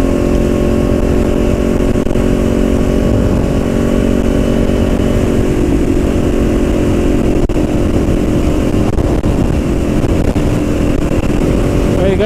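A Kawasaki Ninja 400 motorcycle under way on an elevated expressway bridge gives a steady, loud engine drone mixed with road and wind roar, unbroken for the whole stretch with no talk.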